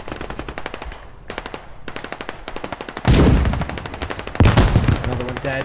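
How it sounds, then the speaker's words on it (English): Automatic gunfire in the military shooter Squad, quick rattling bursts separated by short pauses, with a louder, closer burst breaking out midway and another near the end, no speech. "I hear shots farther southeast"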